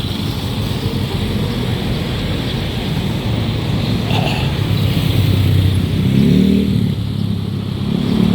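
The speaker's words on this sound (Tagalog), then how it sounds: "Bibilis na mga kotse guys." Continuous traffic rush on a city street with cars speeding past, a broad steady roar, close and loud, with one engine swelling nearer toward the end; no talking.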